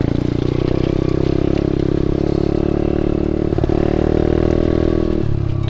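An SSR125 pit bike with a quieter aftermarket exhaust is ridden on muddy ground, its engine producing a loud, steady buzzing drone with a short dip and recovery of revs, plus some clattering.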